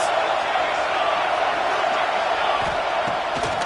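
A stadium crowd roaring for the defense before a big third down in a college football video game, a dense, steady wall of cheering that stays loud and even for the whole stretch.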